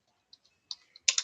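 Light, scattered keystrokes tap on a computer keyboard, a few isolated clicks followed by a quicker, slightly louder cluster at the end, close and quiet with no voices.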